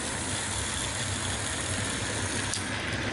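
A Trackmaster toy train engine's small electric motor runs steadily, a continuous buzzing whir at close range with no pauses or voices.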